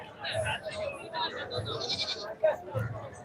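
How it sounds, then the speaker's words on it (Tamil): Young goat kids bleat repeatedly at a busy livestock market in Puthiyamputhur, Thoothukudi district, over steady crowd chatter and nearby talking voices. "ரெண்டு குட்டி ஆடு கரும்போர் ஆடு"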